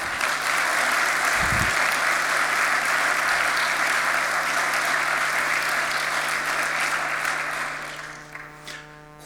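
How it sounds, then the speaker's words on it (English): Audience applause for a debate panel on Israel and Palestine, a broad sustained wave of clapping from a large crowd that holds for several seconds, then thins and fades out near the end. "Big round of applause for our panel, please."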